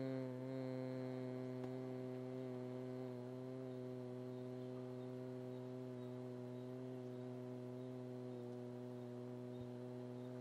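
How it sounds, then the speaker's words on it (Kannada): A person performs bhramari pranayama, exhaling through the nose in a long, steady, bee-like hum that holds one low pitch for about ten seconds, soft and unbroken. "ಉಸಿರನ್ನ ಮೂಗಿನ ಮೂಲಕ ಹೊರಗಡೆ ಹಾಕ್ತಾ ಶಬ್ದ ಮಾಡಬೇಕು. ದುಂಬಿಯ ರೀತಿ ಶಬ್ದ ಮಾಡೋದು."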